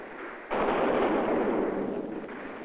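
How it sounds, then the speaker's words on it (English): Cannon fire in the streets of Paris as royalist insurgents are put down during the French Revolution: a loud blast breaks in after a brief quiet and swells into a sustained, roaring rumble that slowly fades. "Once again, cannon in the streets of Paris."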